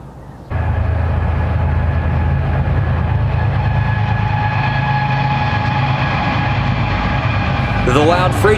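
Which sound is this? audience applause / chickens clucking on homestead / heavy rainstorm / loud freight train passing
loud freight train passing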